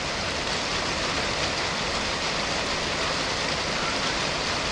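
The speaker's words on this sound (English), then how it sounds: "the rain ain't too bad" Rain falls steadily outside a parked truck, a dense, even hiss that fills the whole stretch without letup and with no voices over it.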